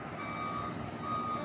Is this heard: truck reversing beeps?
yes